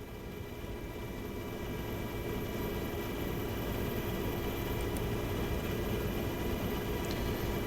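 A helicopter flying over flooded Minot, North Dakota, heard from on board as a steady, loud broadband engine and rotor roar with no break.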